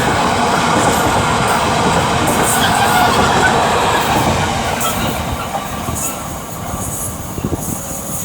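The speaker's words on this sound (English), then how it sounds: "221-130 is also departing with the 1922 cross-country service" Cross-country passenger unit 221-130 pulls out of Stafford station on a Bournemouth service, a steady, loud rumble of engine and rolling wheels that stays close throughout, easing slightly near the end.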